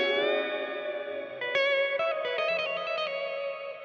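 A Chapman Stick tapped in fourths rings through delay, reverb and an amp simulator, sustained chords with a run of quick plucked notes trailing echoes, played alone with no talking.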